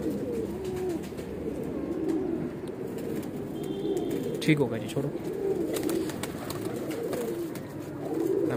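Pigeons of Weshi, Kansani and Sialkoti breeds coo in low, repeated rolling calls close by, while someone talks over them at intervals.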